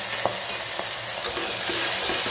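Tomatoes and asafoetida stirred in a hot pan give a continuous frying hiss with a few distinct scraping strokes of the spoon, close and fairly loud, with no talking.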